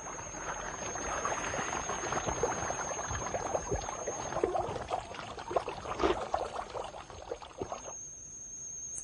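A forest stream runs steadily through a laurel forest on La Gomera, a close, continuous burbling and trickling flow that stays even for several seconds before dropping away near the end.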